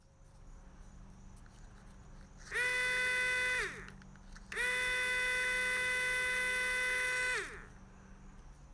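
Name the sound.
Powerstroke 6.0L HFCM fuel pump running outside its housing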